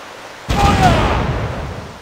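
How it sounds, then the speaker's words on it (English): Cannons fire during a game of pirate play: one sudden booming blast about halfway through, with a rumbling tail that fades slowly. No one speaks. "Man the guns! Fire!"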